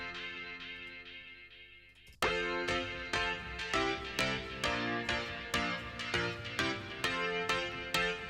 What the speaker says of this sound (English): getting a real nice warm electric piano sound